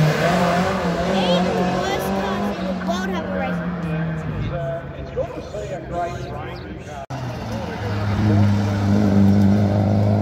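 A turbocharged Nissan Silvia drift car runs at a sprint event in Pittsworth, its engine droning loud and steady under constant nearby conversation, with a brief dip before the revs climb again.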